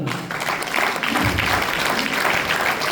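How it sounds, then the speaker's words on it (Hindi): Applause from an audience at an RCM network gathering, a steady, dense wash of clapping that fills the whole stretch at moderate loudness, with faint voices underneath. "उनके लिए जोरदार तालियां"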